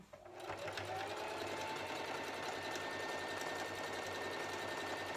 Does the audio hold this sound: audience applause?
no